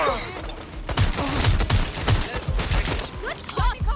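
Rapid bursts of gunfire in the Watch Dogs Legion video game crack and rattle around the player in a dense, close volley lasting several seconds, with a voice talking over the shots.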